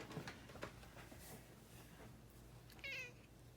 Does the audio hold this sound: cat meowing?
yes